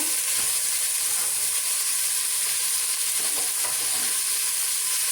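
Meat browning in a frying pan, a loud, continuous close sizzle and hiss of fat with faint crackles and occasional light scrapes.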